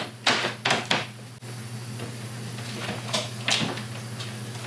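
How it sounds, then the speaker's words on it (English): An interior door is slid into its casing and rough opening, giving a few close knocks and bumping thuds of wood against the frame, with quieter shuffling between them. "I'm gonna slide the door in, I'm gonna put shims all around just to get it standing still"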